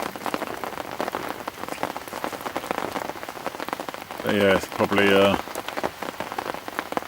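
Steady rain patters on a lake during a carp fishing session, a dense continuous hiss of drops throughout, with someone speaking briefly over it.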